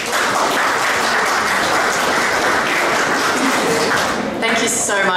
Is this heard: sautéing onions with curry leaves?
no